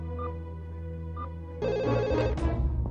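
A telephone rings indoors with two short electronic trills, then a louder, denser ring that swells near the end, close and clear with no talk over it.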